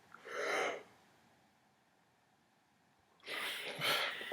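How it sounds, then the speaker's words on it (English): A person yawning, two long, breathy, close-up yawns separated by a few seconds of quiet room tone, with no talking over them. "I don't know why I'm still yawning."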